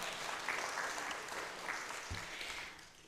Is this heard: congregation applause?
yes